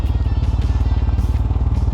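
A Royal Enfield Himalayan motorcycle thumps along off-road, its engine pulsing in a fast, even rhythm, loud and close throughout.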